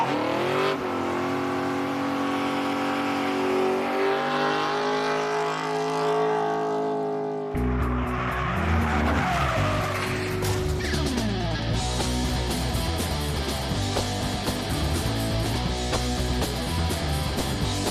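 A 1966 Chevrolet Chevelle races with its tires skidding. A loud, sustained engine roar runs throughout, shifting into a harsher, denser revving partway through, with no talking.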